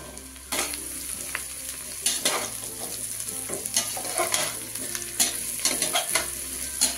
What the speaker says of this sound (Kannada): ಇವಾಗ ಕಟ್ ಮಾಡ್ಕೊಂಡಿರೋಂಥ ಮಶ್ರೂಮ್ನ ಹಾಕ್ಕೊತಾ ಇದ್ದೀನಿ ನಾನು.